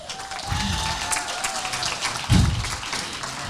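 An audience of dog groomers applauds at the start of a seminar on grooming standards of care, safety and sanitation. The steady clapping fills the room and swells briefly near the end.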